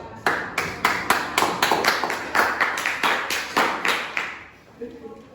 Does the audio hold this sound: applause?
yes